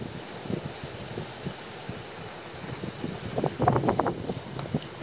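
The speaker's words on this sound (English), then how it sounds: "Sorry about the wind." Wind gusting across the microphone at a fishing pier by the water, a steady rumbling buffet with faint knocks and clatter rising near the end.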